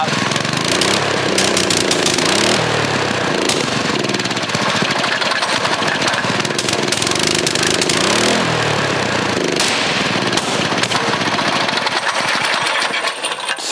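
A small engine on a motorised esky is given gas, running loud and close with a rough, rattling, knocking chatter that surges slightly without ever smoothing out.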